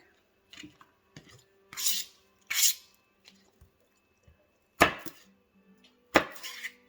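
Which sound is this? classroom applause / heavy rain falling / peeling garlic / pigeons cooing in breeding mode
peeling garlic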